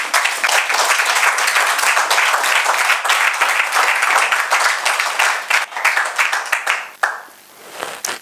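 A church congregation applauds together, sustained dense clapping with a few cheers, loud and fairly close, then thinning out and fading near the end.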